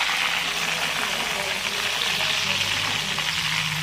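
Banana chips deep-frying in hot oil give off a loud, steady, dense sizzle that holds evenly throughout, with no voices over it.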